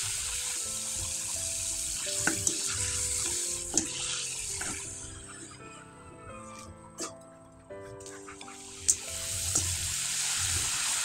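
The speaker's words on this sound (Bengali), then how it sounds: "এখন আপনাদের কয়েকটা পিঠা তেলে ভেজে দেখিয়ে" Sun-dried rice-flour pitha crackle and hiss softly in hot oil, a moderate, steady fry heard beneath tonal background music.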